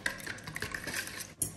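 Mixing a bowl of vareniki dough batter after a glass of water is added, a steady clinking and scraping of a utensil against the bowl with a brief sharper knock near the end, close by and alone.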